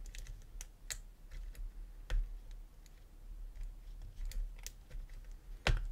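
Lock pick working the pins of an OnGuard Pitbull 8006 Slider D lock, a sparse series of faint, close metallic clicks and ticks at irregular intervals, with no speech.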